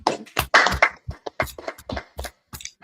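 A small group at a Proverbs chapter 10 Bible study claps in loose, uneven bursts, sharp individual hand strikes close by with short gaps between them, while someone talks over and between the claps.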